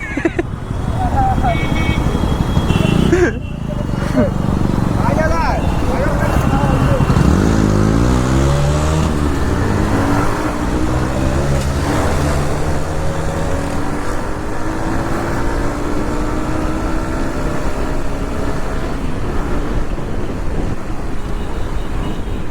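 A KTM Duke motorcycle revs and races nearby on a road, its engine note rising and falling in loud sweeps over steady wind noise from a riding motorcycle.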